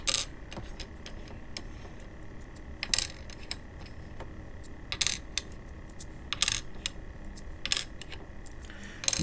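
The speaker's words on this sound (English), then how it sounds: "You might hear the coins hitting the stick" Coins from a 1959 mint sealed bag striking a stick, bright metallic clinks arriving in irregular bursts every second or two, close and crisp against a quiet background.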